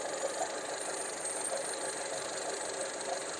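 A Skoda Octavia's engine idles evenly under an open hood, a low, steady hum with a faint light ticking, fairly quiet and unchanging throughout.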